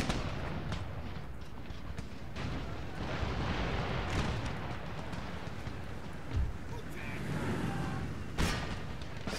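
Dense, continuous battlefield gunfire from the Empire Total War game rumbles along, musket volleys and artillery blending into a steady crackling roar with a few louder booms standing out.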